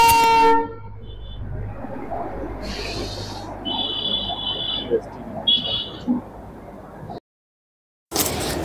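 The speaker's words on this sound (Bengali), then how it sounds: "বাতাসিয়া লুপে এরকম আরেকটি টয় ট্রেনের দেখা পেলাম, তবে এটা কয়লার ইঞ্জিনের নয়।" A non-steam (not coal-fired) toy train at Batasia Loop in Darjeeling sounds its horn in a few short, high toots. Crowd voices and people talking fill the background.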